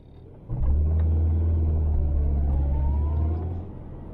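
An Austin Allegro drives along with a steady low engine rumble that swells in within the first half second, holds evenly, then eases slightly toward the end, heard close from inside.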